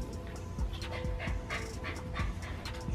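A small puppy pants in quick, rhythmic breaths with faint whimpers mixed in, close by and moderately quiet, with no talking over it.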